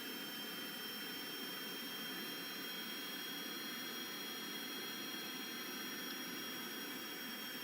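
Rocket engines fire in the Kerbal Space Program game, a steady, broadband roar that stays even and fairly quiet throughout, with no talk over it.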